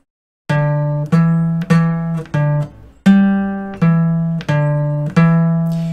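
Guitar plays a riff slowly, eight clean, distinct low notes plucked one at a time with even gaps, each ringing then decaying, alone and close.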